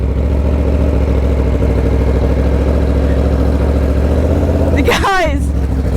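An Aprilia RSV4 1100 Factory motorcycle engine runs in a loud, steady, close rumble, and a brief sharp sweeping rise near the end sounds like a quick blip of revs.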